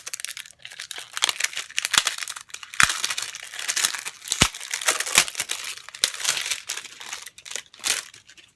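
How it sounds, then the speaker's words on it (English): Plastic wrapping crinkles and crackles almost continuously as it comes off a BH Cosmetics Gold Rush eye and cheek palette, with a few sharper snaps. The sound is close and moderately loud, and nobody speaks. "I'm just opening it, so it's still in the plastic."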